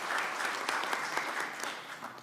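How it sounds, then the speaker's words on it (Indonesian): A crowd applauds loudly and continuously at an Indonesian political event declaring Ganjar Pranowo and Mahfud MD as 2024 presidential and vice-presidential candidates. The clapping is dense and sustained, with no voice over it. "Kita berikan tepuk tangan yang meriah"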